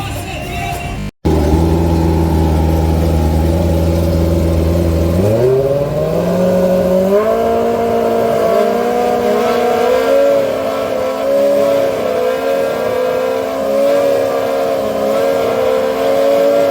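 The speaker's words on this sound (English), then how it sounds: "These things dart all over the track. This one here was no different. From Curacao, crazy, crazy little race cars." Small race cars from Curacao tearing around a track in Aruba, engines revving hard and climbing in pitch as they accelerate, loud and continuous with wavering tones from the pack, after a sharp cut near the start.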